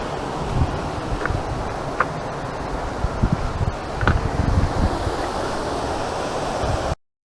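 A waterfall beside a bridge in the Devon village of Horrabridge gives a steady, broad rushing roar, mixed with wind buffeting the microphone, continuous throughout with no talking.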